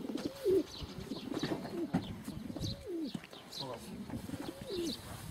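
Pigeons coo repeatedly at close range in a rural yard, rhythmic throaty calls rolling one after another, with people talking in the background.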